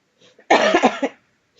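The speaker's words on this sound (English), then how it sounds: "Sorry, I'm coughing in the" A loud, close cough into a microphone with a few rapid bursts, then silence.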